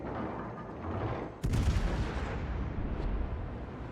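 A single heavy naval gun blast in World of Warships from a Wichita Tier 8 American cruiser, a deep boom over steady ocean and engine rumble, with a faint second report afterward.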